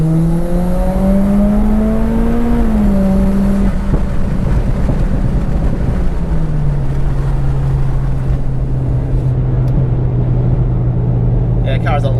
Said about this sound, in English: Let's go 3rd gear, full throttle.